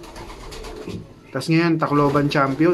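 A racing pigeon, a Tacloban race champion, coos in low throaty tones close by while someone talks over it.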